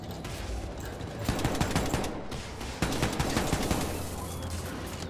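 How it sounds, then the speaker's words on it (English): Turrets in the Wolfenstein 2: The New Colossus video game fire at the player in a dense, continuous rattle of rapid gunfire with loud, layered bursts throughout. "Those turrets shooting me?"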